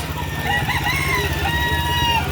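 Chickens for sale at a Saturday market behind SM Lipa in Batangas, with clucking and a crowing rooster over a dense, loud, continuous bed of crowd and market noise.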